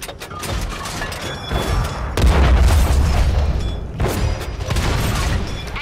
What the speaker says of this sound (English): Now, fucking hell, the artillery's found me now.